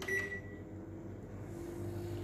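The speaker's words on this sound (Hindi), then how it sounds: "मैं आपको माइक्रोवेव में बना के दिखा रही हूँ" A microwave oven hums steadily while cooking plum jam on a two-minute timer, a low continuous drone with a brief high tone near the start, close and moderately quiet.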